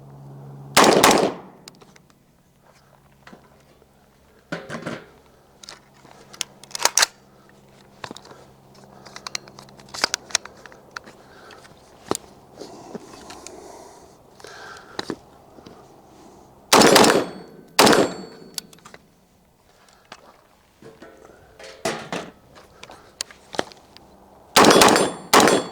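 Rifle shots from a budget AR-15 build ring out at a range, a handful of loud sharp reports spaced several seconds apart, with quieter handling clicks and clatter in between.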